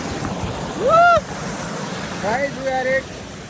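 A river flows steadily as a broad rushing wash outdoors, with voices speaking loudly over it in short bursts.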